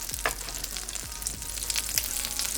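Crunchy bacon frying in a hot pan, a constant dense sizzle with faint crackles and a few low knocks, close and steady, no voices.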